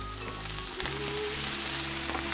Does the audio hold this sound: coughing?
no